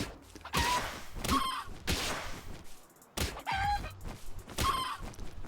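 Chickens in the video game Palworld cluck and squawk in several loud, repeated bursts separated by short pauses, with no talking.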